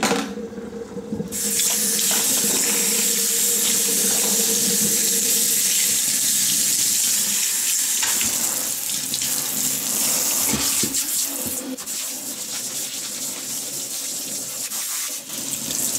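Tap water gushes steadily from a faucet to rinse soap off plant roots in a sink, loud and close, with brief shifts as the flow splashes over the roots.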